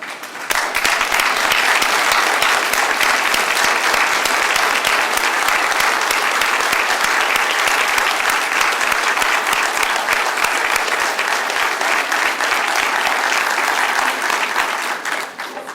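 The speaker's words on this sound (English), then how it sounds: "I'd like for the survivors to stand and give them a round of applause" A large crowd at a Relay For Life event applauds cancer survivors steadily and loudly for about fifteen seconds, dense clapping that swells in quickly and tapers slightly at the end.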